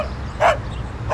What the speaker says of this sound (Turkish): Bir de köpeğiniz var ha?